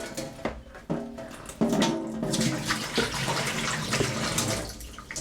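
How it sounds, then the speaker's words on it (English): Water pours and splashes out of a houseplant reservoir in a semi-hydro setup, a steady close gush with sloshing bursts that keeps going without letting up. "let's get started emptying these reservoirs out, and then we can pack them up"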